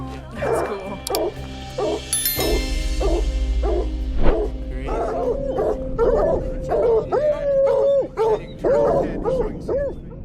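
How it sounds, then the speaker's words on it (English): Hunting dogs used for mountain lion hunting bark and yip in a rapid rhythmic series, with a few drawn-out whining howls, fairly close and loud, mixed with other animal noise in a rugged mountain setting. "Hunting dogs are considered vital tools for mountain lion hunting in the United States"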